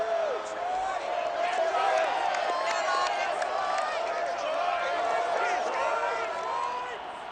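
A large stadium crowd at Ford Field in the video game Madden NFL 22, a broad steady roar of many voices filling the space, holding fairly loud and even before easing slightly at the end.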